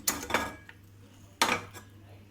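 A pressure cooker is set down on the stove while cooking palak pappu, giving two sharp metallic clanks about a second apart over a low steady hum.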